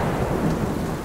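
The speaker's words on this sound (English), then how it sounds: "As the rain poured from the dark clouds above, thunder cracked throughout the night sky." Thunder rumbling through a heavy downpour on a stormy night, a loud, dense roar of pouring rain with deep low rolling booms and no voices.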